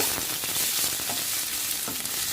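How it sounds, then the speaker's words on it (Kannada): Onions and green chillies fry in a pan with a steady, close sizzle and a few soft stirring scrapes, continuous throughout with no talking. "ಈರುಳ್ಳಿ ಎಲ್ಲ ಒಂದು ಸ್ವಲ್ಪ ಕೆಂಪು ಫ್ರೈ ಮಾಡ್ಕೊಂಡ್ಬಿಟ್ಟು ಒಂದು 3-4 ನಿಮಿಷ ಫ್ರೈ ಮಾಡ್ಕೋಬೇಕು"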